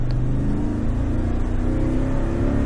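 A V8 car engine revving in traffic, a loud, continuous rising roar held close throughout.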